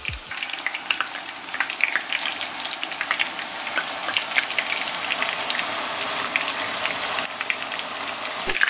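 Eggplant chips sizzle and fry steadily on a baking tray in an oven, a continuous crackling hiss with scattered pops and no talking.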